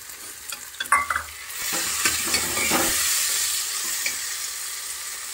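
Peas dropped into a hot pan of tomato masala for vegetable pulao: a few quick clatters and stirs, then a loud, steady hissing sizzle that holds close and even to the end, with no speech.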